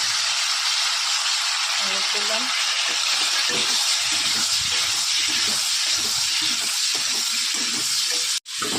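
Potatoes fry in salted oil in a wok with a loud, steady sizzle and hiss that runs unbroken until it cuts out briefly just before the end.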